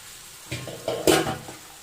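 Black chickpeas sizzle in a pan of frying masala while a spoon stirs them through, giving a few short scraping bursts over a low, quiet sizzle.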